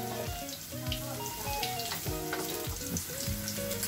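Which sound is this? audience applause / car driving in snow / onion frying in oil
onion frying in oil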